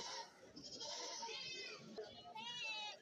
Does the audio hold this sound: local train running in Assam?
no